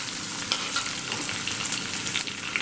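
Crushed garlic, ginger and shallots with green chillies and curry leaves sautéing in hot oil for a Kerala fish curry, making a loud, steady, close crackling sizzle with scattered pops.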